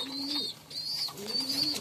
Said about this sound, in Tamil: அதோட இன்னொரு அதோட குட்டி தான் இது, இந்த புறா.